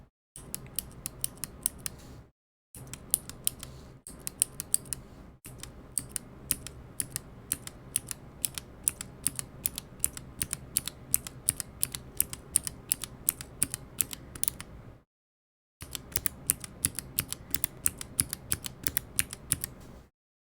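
Rapid, crisp clicking of a mechanical keyboard fitted with Zeal Phoenix switches, typed at a steady pace close up, broken by a few short pauses and with no voices.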